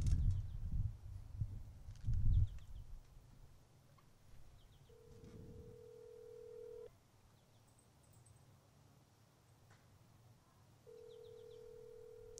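An outgoing phone call rings back in two steady electronic tones, each a couple of seconds long and well apart, coming faintly through a handset after some low rumbling handling noise at the start.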